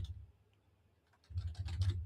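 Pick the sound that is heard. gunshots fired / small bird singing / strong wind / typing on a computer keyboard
typing on a computer keyboard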